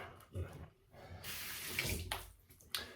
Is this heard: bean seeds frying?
no